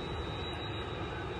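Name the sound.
large airplane flying overhead near Changi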